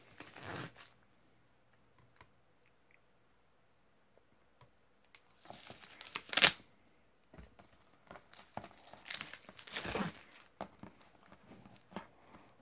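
Plastic wrap on a Gundam Wing Blu-ray collector's set is cut open by hand, giving close, intermittent crinkling, tearing and rustling bursts with quiet gaps between, no talking.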